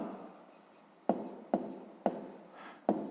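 A pen writes on paper in a few quick strokes, each starting with a crisp scratch that fades, spaced unevenly, close and with no talking.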